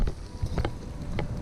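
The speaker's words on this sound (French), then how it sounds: "Un peu de vent, de la pluie." Wind blows outdoors at a riverside on the trout fishing season opening, a steady low rushing gust against the microphone with a few faint knocks, no voices.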